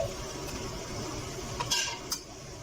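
Egg and prawn curry being stirred in a pot, with scraping and clinking of a utensil against metal over a low background sizzle, a few sharper clinks standing out near the end.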